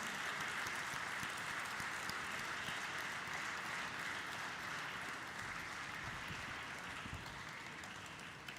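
A large audience applauds warmly to welcome dignitaries at the Fractal Analytics IPO listing ceremony, a dense, steady wash of clapping that holds for several seconds and eases off slightly toward the end.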